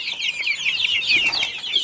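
Chickens clucking and squawking excitedly inside a hen house, a busy overlapping chorus of sharp, close calls with no talk.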